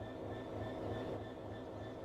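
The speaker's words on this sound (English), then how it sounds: "Let's get the train moving and see it all working." A train in the Train Sim World 3 simulator rumbles steadily with a low, continuous drone and faint high tonal whines, an even, constant bed of engine and rail noise with no talking.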